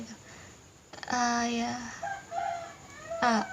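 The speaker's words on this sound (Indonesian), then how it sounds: "Maaf kalau ada suara ayam sini." Chicken clucking and crowing nearby in a home, with harmonic calls in bursts over a quiet background, close and fairly clear.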